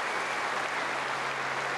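A Wimbledon tennis crowd applauds Henman in continuous, dense clapping that fills the whole stretch evenly, heard from within a large open-air stadium with no voices over it.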